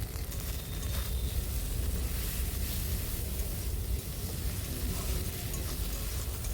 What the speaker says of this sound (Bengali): যখন দেখবে আদা তেলের ওপর দিয়েছো এরকম ছিট করছে